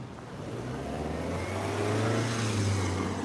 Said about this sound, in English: Another scooter.